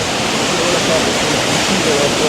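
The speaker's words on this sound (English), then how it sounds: "It's like the river came down." A swollen, brown river rushes down in a loud, constant broadband roar of churning water that fills the whole moment without a break.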